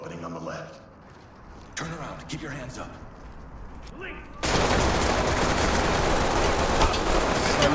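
Gunfight in Ready Or Not, a tactical police shooter game: sparse voice and small noises give way to a sudden, loud, sustained burst of dense gunfire that fills the second half, with talk in the opening part.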